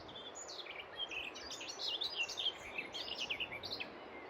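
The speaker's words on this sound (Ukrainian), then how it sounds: "Послухайте, як співають пташки." Several birds singing and chirping outdoors, bright high twittering phrases over a soft background hiss, no talking.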